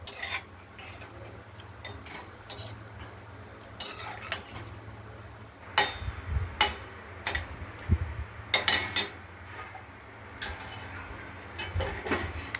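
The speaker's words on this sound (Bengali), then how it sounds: "আমরা কড়াইয়ের ঢাকনাটি খুলে আরেকবার নেড়ে ছেড়ে দিলাম।" A metal spoon scrapes and clanks against a wok of ridge gourd as it is stirred, with a lid being handled; the clattering comes in irregular bursts over a low background hum.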